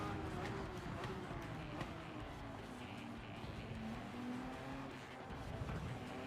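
Race car accelerating at Suzuka Circuit in Gran Turismo 7, played with a Fanatec DD Pro wheel: a steady, quiet engine drone climbing in pitch with a few sharper bursts, continuous throughout.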